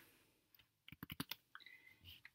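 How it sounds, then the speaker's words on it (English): A computer keyboard is typed on nearby in a quick burst of a half-dozen crisp keystrokes, then a few lighter clicks, quiet overall in a silent room. "And then I'll type the next one"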